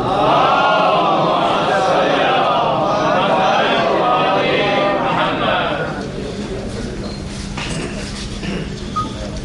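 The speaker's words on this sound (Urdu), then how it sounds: "سب مل کے بابا سے بلند نعرے سنواتے ہیں" At a religious poetry gathering held for Milad un Nabi in Kuwait, a large crowd chants loud slogans in unison, rising and falling rhythmically for about six seconds, then fading into a quieter murmur with scattered voices.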